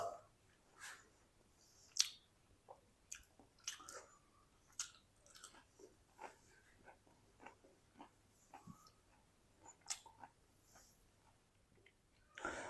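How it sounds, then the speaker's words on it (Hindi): Crispy aloo and onion lachha tikki is bitten and chewed close to the microphone, a series of faint crunches and mouth sounds spread over several seconds in a quiet room. "थोड़ी सी ना हम खा के चेक भी करते हैं"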